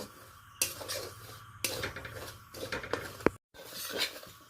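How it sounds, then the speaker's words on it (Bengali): Semolina dry-roasting over a low gas flame in a kadai, stirred continuously, with clattering spoon-on-pan scrapes and clinks in irregular bursts, close up and without any talking. "এইভাবে কন্টিনিউয়াস নেড়ে হালকা লালচে করে নেব"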